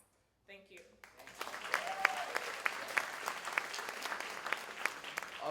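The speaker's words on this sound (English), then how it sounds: "Round of applause." Audience applause at a Caribbean Heritage gathering begins after a brief voice, quickly swelling into a steady crowd clapping with some louder individual claps standing out.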